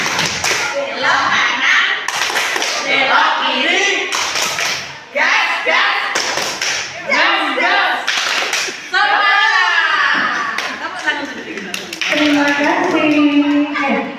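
Schoolchildren at an elementary school perform the 'tepuk gas' clapping chant, with sharp bursts of rhythmic group claps alternating with loud chanted children's voices and an adult leading, the pattern repeating through the stretch.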